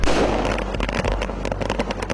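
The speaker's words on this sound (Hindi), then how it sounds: "दिल्ली वाले पटाखे छोड़ेंगे" Firecrackers burst during Diwali in Delhi, a dense, continuous crackle of sharp pops and bangs layered over a low rumble, loud and unbroken throughout.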